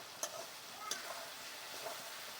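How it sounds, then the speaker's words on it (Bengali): Chilli chicken frying with onion, capsicum, tomato and spices in a pan, a soft steady sizzle with a few light clinks of stirring, faint and close. "চিলি চিকেনে দেখো পেঁয়াজ ক্যাপসিকাম টমেটো মশলাপত্র সব দেওয়া হয়ে গেছে এবারে শুধু সসগুলো দেওয়া হবে সব দিয়েই কষানো হচ্ছে"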